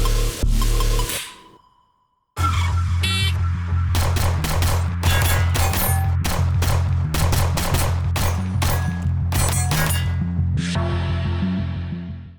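Rapid pistol shots from an IWI Masada, loud sharp reports in quick irregular strings across most of the clip, after a brief opening burst and a short silent gap, with no talking.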